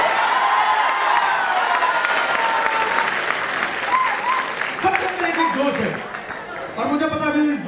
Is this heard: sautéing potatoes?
no